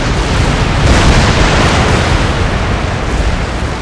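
An organ gun volley in an Empire: Total War battle, heard as a dense, loud rumbling roar of fire and booms that stays continuous through the whole stretch.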